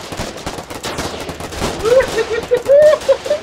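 Rapid gunfire fills a Foxhole battle, with bursts of shots overlapping into a continuous fusillade and a whistling, rising tone later on, while players talk over the noise.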